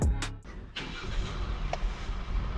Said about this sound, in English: it was finally time to see if we can get this car to start